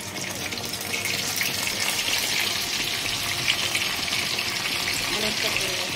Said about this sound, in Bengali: আর একবার ফ্রাই করে নেব যাতে মাছটা ভেঙে না যায়।